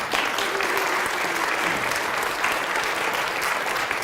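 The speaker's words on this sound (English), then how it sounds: "let's give them a round of applause too" An audience at a Grace Lutheran School gathering applauds its two teachers, a dense, steady round of clapping that stays level for the full stretch without pause.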